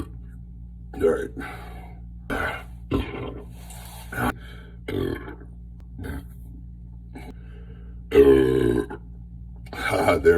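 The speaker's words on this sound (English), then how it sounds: "I literally can't stop belching." A man belches again and again after drinking, a run of short, close burps and grunting sounds with a longer, louder burp near the end, over a low steady hum.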